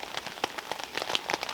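Rain patters steadily on a tarp shelter in an autumn forest, a dense close spatter of drops striking the taut fabric with no voices.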